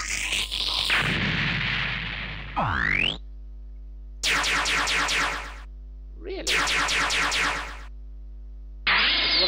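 Heavy booming cannon blasts in a Gundam 00 game, several long roaring bursts separated by short gaps, loud and close over a steady low hum.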